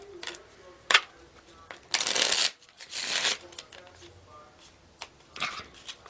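Tarot cards are shuffled in several quick riffling bursts, with soft taps and handling sounds between them.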